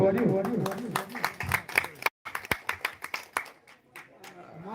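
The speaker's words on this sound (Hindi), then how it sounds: "एक बार अपन अपन नाम से जोरदार ताली बजा दो संगवारी" Audience clapping at a Chhattisgarh government scheme awareness folk troupe performance in Patsiwani, Chhura: a short burst of claps mixed with voices, then a brief gap, followed by sharp, distinct claps that gradually thin out.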